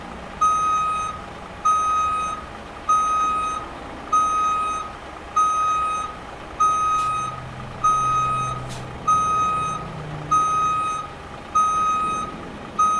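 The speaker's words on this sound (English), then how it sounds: "You guys are gonna be hearing that backup beeper in your sleep now." A truck's backup beeper sounding while reversing in American Truck Simulator, a loud, evenly spaced series of about eleven electronic beeps over a low engine rumble, with no talk.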